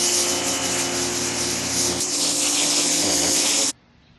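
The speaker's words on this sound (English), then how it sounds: "spray it off, clean it off with the turbo nozzle" A pressure washer with a turbo nozzle sprays a concrete driveway, giving a loud, continuous harsh hiss that runs steadily for nearly four seconds, then cuts off abruptly to near quiet.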